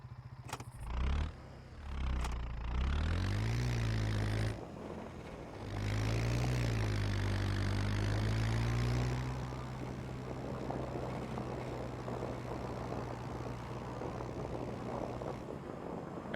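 A propeller aircraft engine in a video game taxis toward the runway, its drone rising and falling in pitch as the throttle changes, then settling into a steady rumbling hum.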